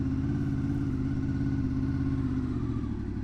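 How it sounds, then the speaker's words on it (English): Motorcycle engine holding a steady low-speed idle-like drone while cornering on full lock with the rear brake feathered, loud and close throughout with no speech. "Now, feathering the rear brake, we can maintain the speed of the bike"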